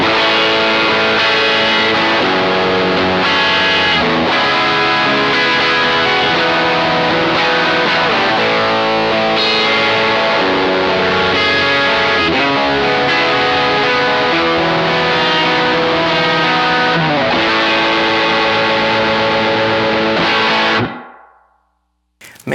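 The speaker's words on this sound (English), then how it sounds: "Man, this pedal really does give you that big wall of sound." Electric guitar through a Suhr Riot Reloaded distortion pedal with gain turned all the way up, a dense, saturated wall of sustained chords and riffs played loud and continuously for about twenty seconds before cutting off abruptly.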